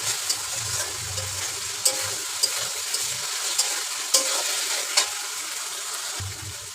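Continuous frying sizzle as potatoes are stirred, with regular scraping clicks of a utensil against the pan every second or so.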